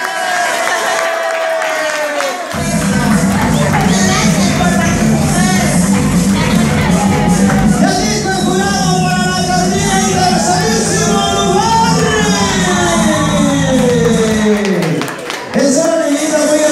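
Crowd at a Halloween night award ceremony in Teopisca, Nuevo León, bursts into loud, sustained applause and cheering after a dull opening, with whoops and shouts over the clapping and a voice on the microphone briefly heard.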